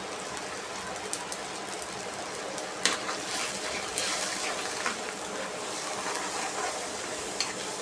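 Ground spices with salt, turmeric, chili and coriander sizzle steadily in a pan for a chicken curry, with a continuous hiss and occasional scraping stirs cutting through at close range.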